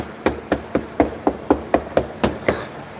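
Knocking on the body panel of a Ford Ranger XLT pickup, about a dozen sharp, evenly spaced raps close by, each a hollow metallic thud ringing briefly off the panel.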